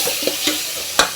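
Vegetables stirred and frying in a pan for sambar: a continuous loud sizzle near at hand, broken by a few sharp scrapes and clinks of the spoon against the pan.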